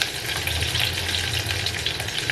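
Chopped onion sizzles steadily in a hot pan, a dense continuous crackle and hiss with faint low stirring noise underneath, close and even throughout.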